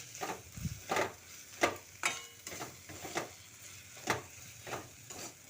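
Cabbage paturi with slit green chilies stirred in a wok, a series of about nine close scraping strokes in a loose rhythm, each a short rasp of spatula against metal, with no talk.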